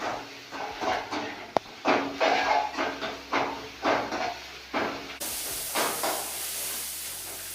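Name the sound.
ginger garlic paste being stirred and sizzling in a pan with onions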